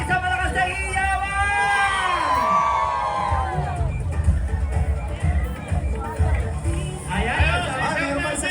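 At the Pasig Day grand civic parade, a street crowd whoops and shouts in rising and falling cries, then settles into a loud hubbub, with people talking throughout.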